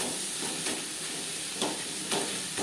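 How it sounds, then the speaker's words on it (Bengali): Chicken tossed with spices in a hot pan for street-style chicken rolls, giving a steady sizzling hiss with a few soft scraping strokes of stirring, close and continuous. "মশলার সাথে চিকেন বেশ ভালো করে মিক্স করে দেব"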